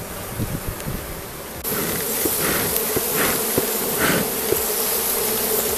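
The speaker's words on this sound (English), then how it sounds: "There was lots of bees on the front here till we smoked it." A dense swarm of honey bees buzzing steadily nearby at an opened hive during inspection, a continuous droning hum that swells slightly louder partway through, with no voices.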